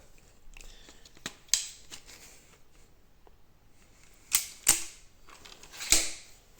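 Sharp mechanical clicks from a 3D-printed repeating crossbow with a magazine, a few isolated snaps with a louder cluster near the end, close and otherwise quiet with no talk.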